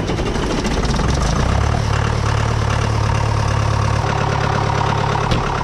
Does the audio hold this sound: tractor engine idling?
yes